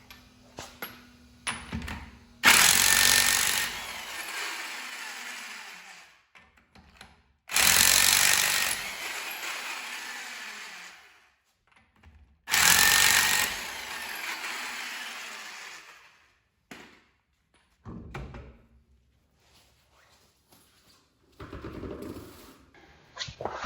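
Impact wrench or power tool loosening the rear wheel lug nuts on a Toyota Prius C in a garage, three loud rattling bursts of a few seconds each with quieter clanks and handling noises between them.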